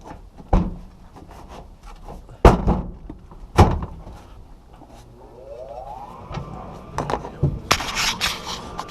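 A furnace access door is fitted back into place with several sharp clunks and knocks spaced a second or two apart, followed by a faint rising mechanical whine and more rattling.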